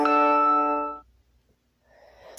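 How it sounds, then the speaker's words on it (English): A phone notification chime plays as a single bright harmonic tone for about one second, then cuts off, followed by faint rustling and quiet noise. "My notifications are blowing up."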